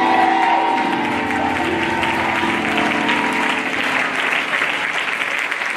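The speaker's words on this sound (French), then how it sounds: "Acclamez le Seigneur pour cela." A church congregation claps and applauds the Lord during a French-language Sunday worship exhortation and prayer, sustained loud clapping from a full crowd that rises and holds, with a voice briefly heard at the start.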